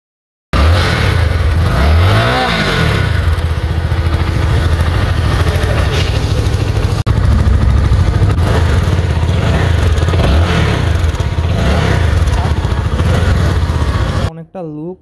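A CF Moto 300NK motorcycle fitted with an underbelly exhaust revs repeatedly from idle, each throttle blip rising and falling sharply, loud and close, the engine note holding a throaty drone between revs.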